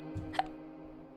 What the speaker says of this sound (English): Crap, I got hiccups.